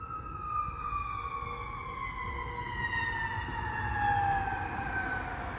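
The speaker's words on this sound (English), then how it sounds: "And that's lovely how you hear the sirens in the background as that's being said." Emergency sirens wail in the background on a city street in Detroit, steady descending tones, fairly faint and distant over low traffic rumble.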